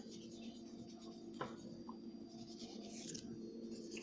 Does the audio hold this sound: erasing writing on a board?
yes